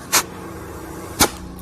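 Two short, loud bursts of exhaust pressure puff from a running car's exhaust pipe about a second apart, close up over a low steady engine idle.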